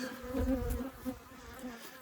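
Honey bees buzz around hives at an apiary, a dense, close swarm hum that swells and fades with individual bees passing near, continuous and without speech.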